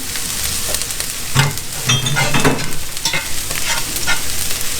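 Garlic added to a hot pan of sweating, softened mushrooms, giving a loud close continuous sizzle with bursts of stirring and scraping, no talking.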